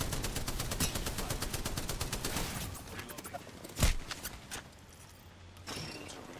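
Rapid automatic gunfire from an enemy squad in a video game, a fast regular volley of shots that thins out, with a sharp louder blast midway and someone speaking over it.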